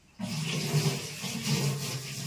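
Water runs from a tap in a village home kitchen, a steady close rushing stream that starts abruptly and continues evenly with no talk over it.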